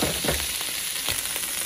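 Bacon frying on a new cast iron griddle, a steady close sizzle with crackling pops and a couple of brief scraping stirs, no talking.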